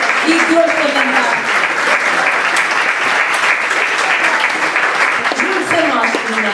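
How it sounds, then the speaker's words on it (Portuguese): Festival audience applauding steadily throughout, a loud continuous clapping crowd with voices and cheers mixed in. "uma grande salva de palmas"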